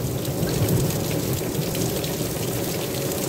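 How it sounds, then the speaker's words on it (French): Steady rain hisses and patters close by while low thunder rumbles softly underneath. "Tu entends les grondements."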